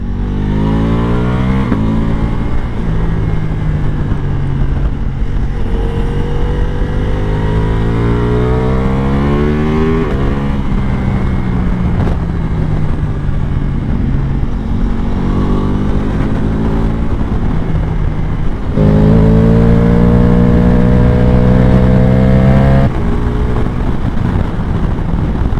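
A Ducati Multistrada V4 Pikes Peak fitted with a full Akrapovic exhaust system and dry clutch roars loudly on the road, its engine rising and falling through repeated accelerations and gear shifts.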